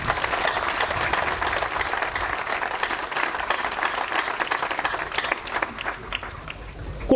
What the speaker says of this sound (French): applaudissez pour la communauté paroissiale